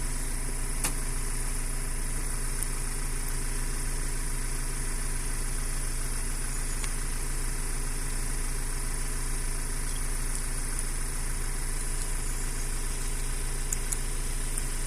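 A Ford Transit Custom van's diesel engine idles steadily and evenly throughout, a constant low hum with no talking.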